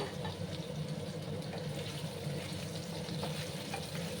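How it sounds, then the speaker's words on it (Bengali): Two large cut potatoes fry in a pan over high heat, giving a steady, even hiss of sizzling oil that runs unbroken and fairly soft throughout. "এবার আমি হাই আছে 2 মিনিটের মতো আলুগুলোকে ভাজবো।"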